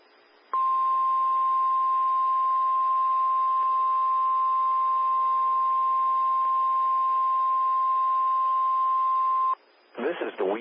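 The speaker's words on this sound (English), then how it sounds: "The weekly test of the NOAA Weather Radio warning alarm" A NOAA Weather Radio warning alarm test sends one steady, loud, piercing tone for about nine seconds over broadcast hiss, then cuts off as a voice starts.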